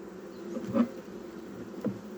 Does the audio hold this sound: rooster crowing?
no